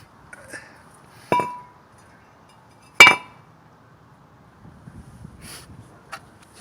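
A brake rotor comes off a 2004 Buick LeSabre with two sharp metallic clinks a couple of seconds apart, then faint rattling and a soft final tap in a quiet workshop.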